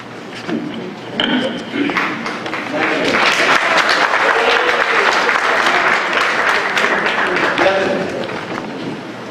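Applause from the crowd at a special town meeting, a dense burst of clapping that swells and holds loudly for several seconds, with some voices mixed in.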